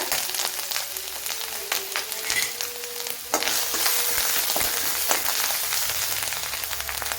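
Crushed ginger-garlic paste sizzling in hot oil with mustard seeds, a steady close frying hiss with crackles and pops, plus occasional scrapes and clinks of a spoon stirring in the pan.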